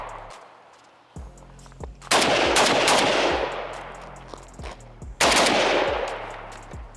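Krebs Custom M23 prototype rifle fired outdoors in loud, sharp bursts: a few single shots, then two rapid strings of fire, each followed by a long ringing echo.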